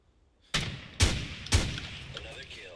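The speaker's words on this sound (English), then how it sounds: "No, you're not supposed to shoot." Gunfire in the video game GR01 comes as three heavy, booming shots about half a second apart, sharp and close, each leaving a short echoing tail, with no talk over them.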